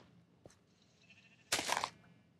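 A single sheep bleats in the survival video game Soarvivorcraft, a Minecraft world, with one short nasal bleat rising over a faint, quiet background after a small click.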